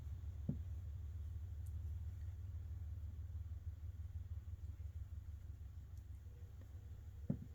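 CN locomotive 8307 throttles up to climb uphill at West Ladysmith, giving a deep, continuous diesel rumble that is faint and distant, with a couple of brief clanks.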